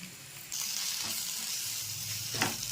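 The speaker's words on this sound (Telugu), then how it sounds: "మసాలాలు లైట్గా పచ్చివాసన పోయేంత వరకు అల్లం వెల్లుల్లి పేస్ట్ అది కొంచెం వేపేసుకోవాలండి" Ginger garlic paste, turmeric, chili powder, cumin and coriander powder fry with browned onions in a pan, giving a constant close hiss that rises after a moment, with occasional stirring scrapes and no voices.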